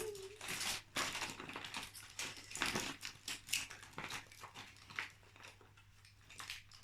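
A plastic bag crinkling and rustling while travel toiletries are packed, a run of close, irregular crackling bursts of varying loudness with quieter gaps toward the end.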